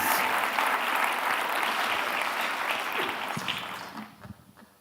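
Audience applause at a live conference closing ceremony, a loud continuous wash of clapping that holds steady, then thins and fades out near the end, leaving a few scattered claps.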